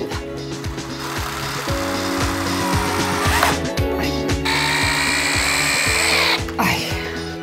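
A screwdriver drill drives a lag screw while a shelf is fixed with a bracket in a small old apartment, its close loud motor whirring steadily in pulses that shift pitch as the screw bites.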